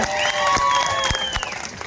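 A crowd at a Shiv Sena youth leader's political speech breaks into loud, sustained clapping and cheering, with whistles rising above the applause for about two seconds.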